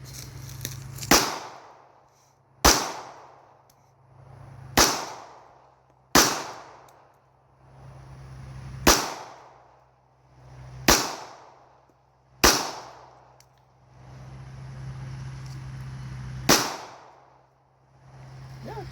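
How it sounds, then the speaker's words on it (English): Single gunshots from an SDS Tanker firearm crack out one at a time at uneven intervals outdoors, eight sharp loud reports, each with a short decaying tail. "This is a what? Tanker. SDS tanker. SDS tanker. I don't think I've ever shot this one."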